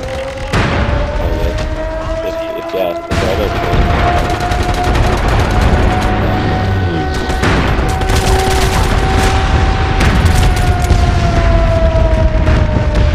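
Dense gunfire and booming blasts from a multiplayer shooter match in MAG, with a steady, loud wash of shots and explosions running through the whole stretch and a faint tonal whine over it, with no clear talk.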